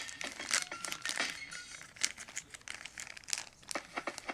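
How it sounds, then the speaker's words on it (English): A thin plastic pouch holding sunglasses crinkles in quick, irregular bursts, close and fairly quiet, with short crackles and brief pauses between handlings. "here are the glasses in a plastic pouch"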